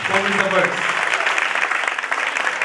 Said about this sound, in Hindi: जोरदार तालियां कलाम के लिए, खुदा के पाक कलाम के लिए।